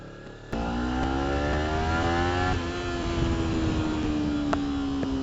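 A Kawasaki Ninja 300 motorcycle engine revs up sharply and holds a high, loud whine near the microphone, its pitch dipping slightly and then climbing again.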